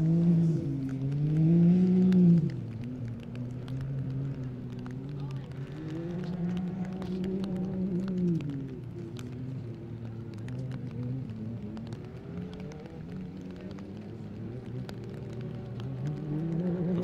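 Can-Am UTV race vehicle running a desert qualifying course at King of the Hammers, its engine droning and wavering in pitch as it rises and falls, heard under continuous commentator talk.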